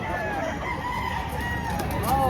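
A rooster crows at a poultry market in Lipa, Batangas, its call rising over a busy background of clucking fowl and voices talking in the crowd.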